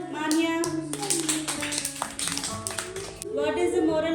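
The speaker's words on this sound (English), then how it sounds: "Clap for Manya." Children in a classroom clap their hands together in a quick burst of close, irregular claps, with a teacher's voice and children's talk around it.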